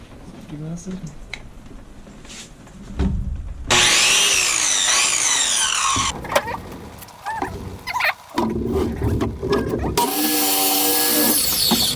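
Wood being sawn up to build a mountain bike manual trainer, with bursts of rough, grinding cutting noise that stops and starts, loud and close, shifting between strokes and a harsher power-tool whine toward the end.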